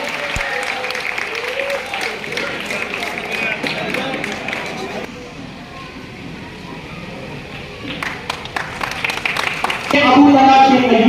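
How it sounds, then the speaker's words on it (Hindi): Audience applause and cheering at a student award ceremony held by a community committee, steady crowd noise under a hum of babble, dipping midway and then swelling loud again near the end. "आपकी तालियां इस तालिबा की हौसला अफजाई कर सकती है।"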